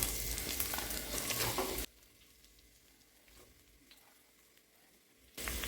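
Onions sautéing in coconut oil in a cooker give a loud, hissing sizzle that stops abruptly into near-quiet for a few seconds, then bursts back in at full strength.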